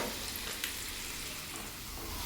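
Onion and tomato with spices sautéing in a pan, a loud continuous sizzle and crackle close up, with faint stirring scrapes throughout and no talk.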